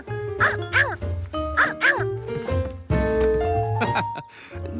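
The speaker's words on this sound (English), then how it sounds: "But it did bark." A very young otter pup barks in a children's cartoon in repeated sharp, high yipping bursts, several in quick pairs. Longer whining calls follow, rising and falling over a musical background.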